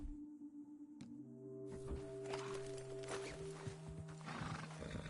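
A horse beside Arthur in a Western open-world game, heard faintly as a snort and whinny blending with hoof sounds and a low musical drone in the background.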